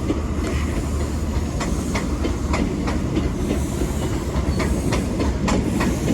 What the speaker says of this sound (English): The test train.